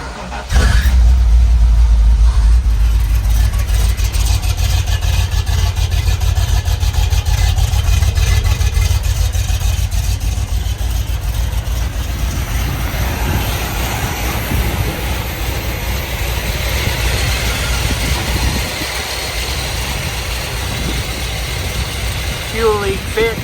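A 1977 Dodge Power Wagon with a 440 engine, after sitting fifteen years, cranks loudly and then runs with a steady rumble throughout; people talk at times over the engine noise.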